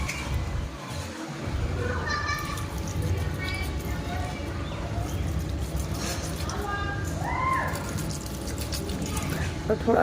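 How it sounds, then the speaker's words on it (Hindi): Water poured into indoor plant pots, with gentle splashing and trickling running in the background while someone talks over it and a few brief clatters and a bird call are heard. "तो चलिए मैं सारे प्लांट्स में पानी डाल देती हूँ।"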